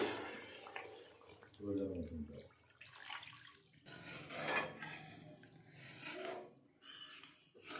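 Water goes into a pan of fried spice paste for a thin katla fish curry, heard as close scraping, splashing and clattering of utensils in uneven bursts, with speech-like sounds in between.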